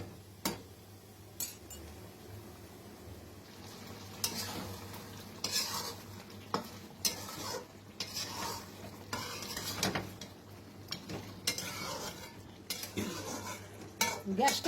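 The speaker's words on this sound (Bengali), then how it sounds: "এবার আমি গ্যাসটাকে সিমে করে মাংসটাকে খুব ভালো করে কষিয়ে নেব।" Mutton being sautéed in a pan over a low gas flame for a Bengali-style curry, with a steady soft sizzle under repeated close scraping and clinking of a spatula stirring the meat.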